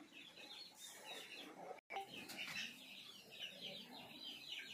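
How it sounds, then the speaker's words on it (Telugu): Free-roaming hens of a fighter chicken breed cluck repeatedly near and at moderate level, with soft rustling and brief wing sounds, and no talk. "ఉన్నాయి పెట్టలు ఆడ తిరుగుతున్నాయి."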